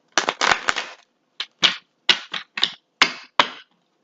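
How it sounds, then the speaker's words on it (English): Tarot cards being shuffled by hand produce a series of crisp, close riffling bursts, one longer rustle followed by several short separate snaps and flutters, with no talking. "Again, because I'm shuffling the cards."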